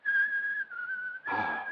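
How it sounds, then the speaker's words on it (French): A person whistles a tune from an Italian song, a clear steady melody with a brief pause midway, then continuing louder with some breathy noise, close and alone without talk. "Je vais la siffler."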